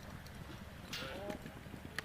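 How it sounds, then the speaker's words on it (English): Horse hooves clip-clop steadily as a rider works a horse in the yard at an Australian campdraft, close and fairly clear, with an announcer talking over them. "This is Mark Buttsworth riding One Stylish Pepto, that great horse owned by the One More Syndicate."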